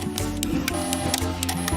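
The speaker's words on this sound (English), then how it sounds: "Let's meet the X-Maker Joy 3D printer." An X-Maker Joy toy 3D printer running, its stepper motors whirring in steady tones that shift pitch while quick clicks and ticks repeat at a regular pace, close and alone.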